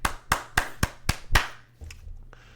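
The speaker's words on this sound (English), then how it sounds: "I have to give the animators a round of applause" Six loud, close hand claps in a quick uneven rhythm from one person, followed by a brief rustle and quiet.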